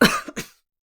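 A single short, throaty cough clears the throat, close and fairly loud, then silence.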